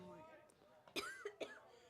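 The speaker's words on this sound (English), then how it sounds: "Son's coughing out a lung because he's eating chips" A couple of short, sharp coughs from a boy eating chips break through quiet background talk at a college baseball game, close and abrupt.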